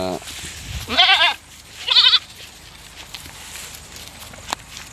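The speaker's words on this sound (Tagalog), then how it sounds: "Nagpapakasta naman ng ating alagang kambing kahit dalawang buwan pa lang itong kanyang anak" An Anglo-Nubian goat bleats twice, loud and close, in two short wavering calls about a second apart on a farm. Footsteps and rustling follow, and a person speaks briefly at the very start.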